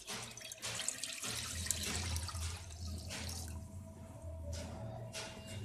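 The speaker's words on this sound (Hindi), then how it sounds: "ये पानी हम इसमें डालेंगे।" Chicken-boiling stock being poured into a pot of chicken and vegetable soup, a soft continuous splashing trickle at close range with a few brief pauses, fairly quiet and without talk.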